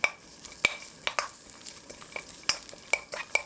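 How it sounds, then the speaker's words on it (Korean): Salted, rinsed cabbage with cooking oil and green onion stir-frying over medium heat, a soft steady sizzle broken by sharp utensil scrapes and clacks against the pan every half second or so, close and alone. "식용유, 대파 넣고 중불에서 볶아줍니다"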